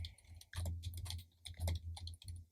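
Quiet bursts of rapid clicking come from someone typing on a computer keyboard close by, in short flurries separated by brief pauses, with no speech.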